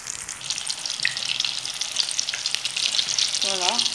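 Cauliflower and minced meat sizzle steadily in a hot pan for a tajine, with a few scraping stirs as the pieces are turned, close and continuous with no talking.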